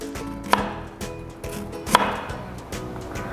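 A knife chops hard galangal (Thai ginger) on a board for a green curry: sharp wooden knocks land at an irregular pace, two of them louder, with no talk.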